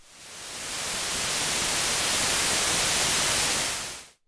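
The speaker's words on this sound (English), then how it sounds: "white noise." Steady hiss of white noise from a Prophet Rev2 synthesizer's noise source, fading in and then holding loud and even for about four seconds before cutting off.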